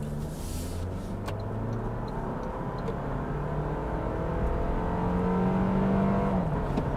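Four-cylinder engine of a new Toyota Land Cruiser revving and pulling hard from inside the cabin, a steady loud drone that rises in pitch and strength toward the end with no talking.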